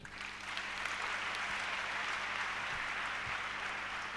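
A church congregation claps in sustained, dense applause, a steady wash of many hands from start to end with no voices standing out.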